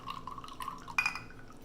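Soy sauce poured into a marinade for London broil, a soft liquid trickle and splash into a bowl, with a brief glassy clink partway through, close up.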